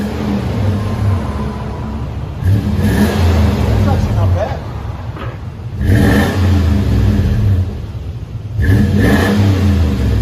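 A 2004 Lexus GX470 4.7L V8 with a Flowmaster Delta 50 Series exhaust revs up three times in loud bursts, settling back to a throaty idle between them, while a person speaks briefly.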